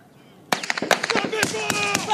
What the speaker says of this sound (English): Belt-fed grenades coming over us.